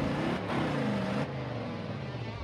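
A muscle car's engine accelerates hard under throttle from inside the cabin, a steady loud broadband roar with rising pitch sweeps over about two seconds, then settling into a sustained drone.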